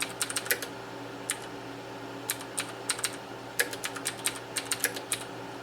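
Keys tap on the keyboard of a Prompt 80 8080 vintage computer trainer in quick, irregular bursts of strokes, close and fairly quiet, with a low hum underneath.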